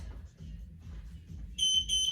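A high electronic workout timer beeps twice in quick succession during a conditioning and core session, sharp and steady, over a low murmur of background sound.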